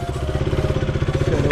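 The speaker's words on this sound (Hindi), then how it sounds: "तो चलो मैं बाइक चला देता हूँ।" A motorcycle engine runs close by with a steady, rapid throbbing beat and some clatter as the bike is ridden up onto a river ferry boat at Gwarighat.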